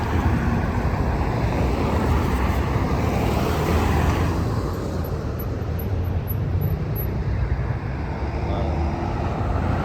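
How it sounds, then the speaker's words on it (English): Busy Monday city traffic rolls around a roundabout in Mexico, a continuous wash of engines and tyres with wind buffeting the microphone, fairly close and steady throughout. "A lot of traffic today."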